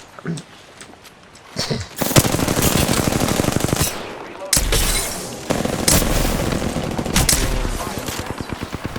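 Rapid automatic gunfire in the video game Apex Legends, with sustained bursts of fast repeated shots, loud and close, broken by short pauses and a heavy low thump partway through.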